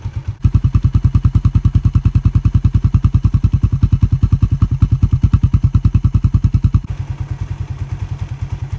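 A Suzuki Satria fuel-injected motorcycle engine warms up close by, a loud steady idle of rapid even pulses that eases slightly toward the end, with no talking.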